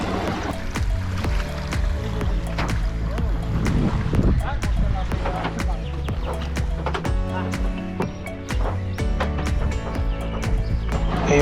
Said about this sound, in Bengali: এই হচ্ছে আমাদের ইঞ্জিনের নৌকা।